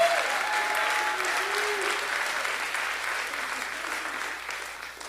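A church congregation applauds at a prayer service, steady dense clapping from a large crowd that slowly fades a little, with a voice briefly heard near the start.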